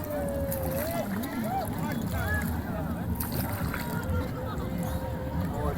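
A small boat moving on the Lohit river, with water lapping and a low steady engine or hull rumble close by, gusts of wind on the microphone and people talking and calling out over it.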